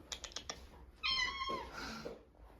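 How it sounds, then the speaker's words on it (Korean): A cat lets out a clear, drawn-out meow after a few quick clicking taps, fairly close and with no one talking. "외출을 좋아하는 고양이입니다."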